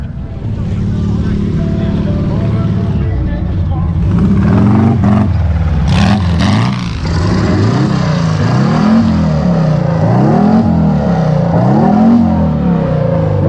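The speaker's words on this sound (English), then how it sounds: "Can you turn on your engine? This could be fun. Good old rev." A classic car engine idles loudly at a car show, then revs up in repeated rising and falling surges, close by, with voices talking over it.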